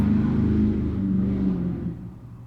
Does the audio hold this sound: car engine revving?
yes